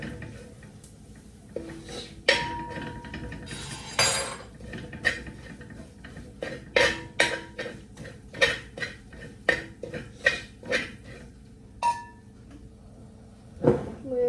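A spoon scrapes and clinks against a pan while spiced masala is sautéed, giving irregular close metallic knocks and scrapes spread throughout, with some background talk.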